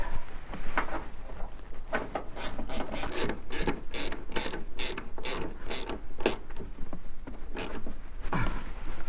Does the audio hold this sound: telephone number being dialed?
no